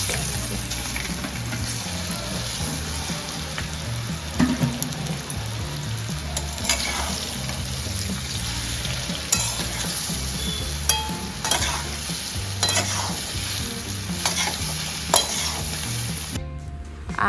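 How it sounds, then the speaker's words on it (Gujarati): Hot oil crackles and sizzles steadily in a tempering (vaghar) with asafoetida for patra (patarveli) colocasia leaf rolls, a close, continuous frying hiss with small pops throughout and no talking. "હવે આપણે થોડો તેલનો વઘાર કરી દઈશું."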